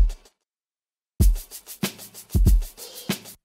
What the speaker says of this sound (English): That's one shaker at the original tempo.